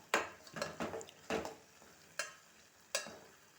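Tomatoes being stirred in a hot pan for a meal maker curry, giving a few scraping, sizzling strokes close by, with quiet gaps between them and no talking.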